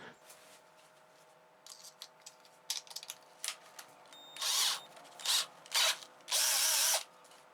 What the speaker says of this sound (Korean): 드릴은 2단으로 설정하시고 드릴 모드를 사용하시면 됩니다.